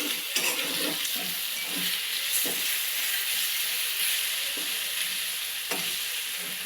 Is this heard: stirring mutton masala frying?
yes